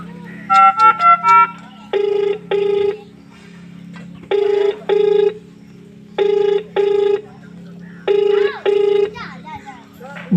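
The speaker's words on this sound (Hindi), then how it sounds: "अब ये जनाब फोन भी नहीं उठाते।" After a quick series of dialing tones, a phone rings in repeated double bursts four times and no one answers, over a steady low background hum.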